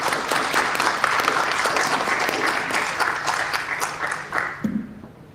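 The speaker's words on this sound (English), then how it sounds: "can we just give the students a round of applause?" An audience claps loudly for a group of medical students, a sustained, even burst of applause that fades slightly near the close.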